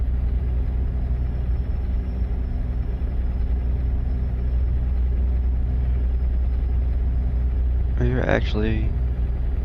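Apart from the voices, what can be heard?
truck engine with retarder braking downhill in a video game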